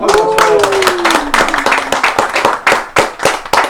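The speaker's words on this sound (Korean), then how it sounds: "진짜 박수 한번 쳐줘요" An audience at a Korean motivational lecture claps in a burst of dense, close applause, with a brief voice over the opening moments before the clapping carries on alone and tapers toward the end.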